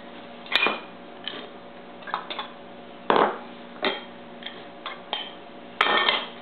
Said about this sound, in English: Mix those into your dry ingredients mixture